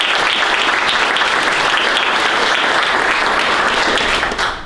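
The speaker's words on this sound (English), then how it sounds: "please welcome and thank through your round of applause, Joe Mira." Audience applause at a STEM Town community event in Wallingford: a steady, dense clapping crowd sustained at full strength throughout, tapering slightly only at the very end.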